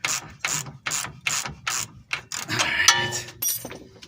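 Repeated ratchet clicks from tightening a bolt on a Chevy Blazer all-wheel-drive front suspension, about eight rhythmic bursts of close, sharp metallic clicking, the last ones blurring into a denser rasp with a squeak.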